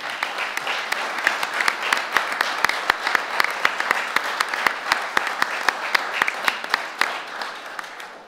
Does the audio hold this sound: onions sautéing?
no